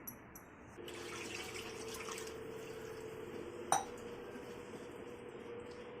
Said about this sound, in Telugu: నీళ్ళు ఇంకొంచెం నీళ్ళు పోద్దాం, నీళ్ళు చాలలేదు.